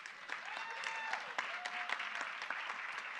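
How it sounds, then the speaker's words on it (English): An audience at a youth education summit applauds for a minister, sustained clapping from many hands in a large hall, moderately distant and even throughout. "I want you all to give an applause to our Honorable Minister for that."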